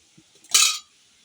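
A metal lid is set onto a pan of cooking jackfruit, a single short bright clink and scrape, close and distinct, preceded by a faint tap, with no talking.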